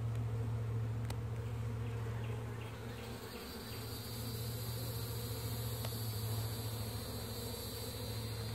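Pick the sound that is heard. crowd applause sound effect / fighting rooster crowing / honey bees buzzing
honey bees buzzing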